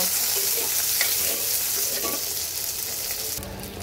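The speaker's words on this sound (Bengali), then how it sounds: "এবার আলু আর সিমটাকে একটু হালকা ভেজে নেব।" Potatoes and flat beans frying lightly in a pan give a steady, close sizzle with occasional stirring scrapes, holding even throughout and shifting slightly near the end.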